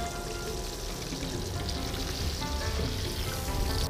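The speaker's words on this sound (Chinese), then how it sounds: "这个鱼下锅这种脆弹的感觉真是太好了啊" Fish dropped into hot oil in a wok sizzles and crackles loudly, a dense, steady frying hiss from start to finish, close to the pan.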